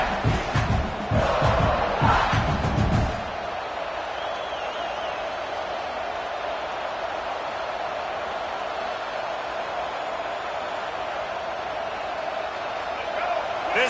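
Stadium crowd in NCAA 26 college football: a dense, steady roar of many voices filling the whole clip, loudest and more chaotic in the first three seconds, then settling into a constant wash of noise.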